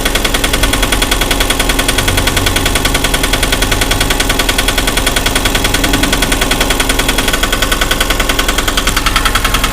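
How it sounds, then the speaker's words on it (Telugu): A diesel auto rickshaw engine, freshly refitted, runs close and loud with a rapid, even mechanical clatter, regular pulses hammering steadily throughout with no voices. "ఇప్పుడు దీని ఇంజన్ ఫిట్టింగ్ ఎలా ఉందో విందాం. స్టార్ట్ అయింది."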